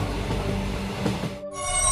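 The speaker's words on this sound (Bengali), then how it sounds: "ট্রেনটা চলতে চলতে এবার একটা স্টেশনে এসে থামল।" A train rumbles along with a low clattering roar, then a brief drop in noise before a high metallic squeal of wheels rises.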